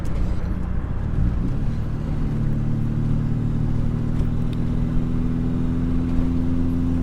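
A Volkswagen Mk1 GTI's engine drones steadily from inside the car while driving, a low continuous hum that rises slightly in pitch as it pulls, with no talking.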